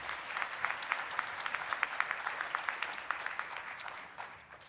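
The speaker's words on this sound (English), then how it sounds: "Let's give her a round of applause." Audience applause at a Black Caucus of Faculty and Staff awards ceremony, honoring a nominee who was a member of Purdue's Boeing flight team and a dance troupe. The clapping is steady and fairly distant, with distinct hand claps, and it fades toward the end.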